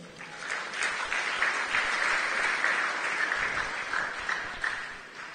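A church congregation applauds steadily, a dense, even wash of clapping from many hands filling the room, moderately loud and sustained without a break, with no one speaking.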